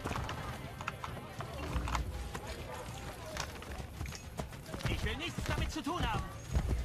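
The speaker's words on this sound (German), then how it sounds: "Dann holen wir uns mal ein Pferdchen." Horse hooves clip-clop at a running pace in the Renaissance-era game Assassin's Creed Brotherhood, a steady galloping rhythm close by, mixed with game noise and a brief whinny-like sound near the end.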